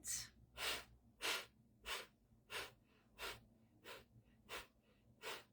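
Slow, deep breathwork exercise: about nine even, airy breaths of inhale and exhale follow one another at a steady rhythm, close and soft, with no talking.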